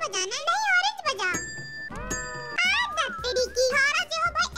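Hand bells rung during a game on a variety show, bright ringing tones sounding in short bursts between loud, animated voices talking over and around them.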